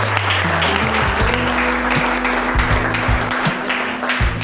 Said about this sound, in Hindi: जोरदार तालियां बजाओ अपने लिए।